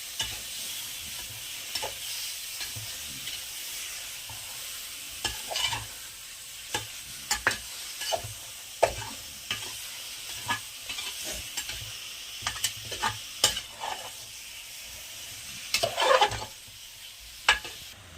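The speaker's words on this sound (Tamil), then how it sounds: "சிக்கன் பீஸ் போட்டாச்சு நல்லா ஒரு வதக்கு வதக்கிக்கிறேன்" Chicken pieces sautéing in a pot for biryani, with a continuous sizzle under repeated scraping stirs of a spoon at an uneven pace, close up, with no voices.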